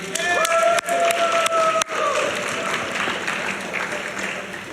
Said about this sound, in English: Let's give him one more round of applause, everybody.